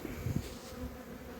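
Honey bees buzzing at a hive frame during a colony inspection, a close, continuous low drone with a few louder passes near the start.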